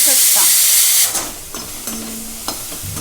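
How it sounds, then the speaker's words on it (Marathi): Chopped onion fries until reddish-brown in a pan for a village-style chicken masala gravy, giving a steady close sizzle and hiss that settles into softer crackling with a few faint utensil stirs. "कांदा लालसर झालेला आहे आता ह्याच्यामध्ये आपण टोमॅटो टाकून घेऊयात"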